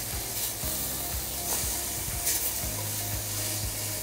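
Strawberries cooking in a pan on the stove, a steady bubbling sizzle with soft stirring clicks and scrapes, close and continuous with no voices.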